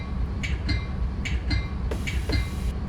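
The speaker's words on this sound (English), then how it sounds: "Let's get the whole train on the platform." A Chicago-Aurora train in Train Simulator 2016 rolls into a platform, with a steady low rumble and rhythmic wheel clicks as the cars pass over rail joints, plus brief higher squeals, at moderate loudness with no talking.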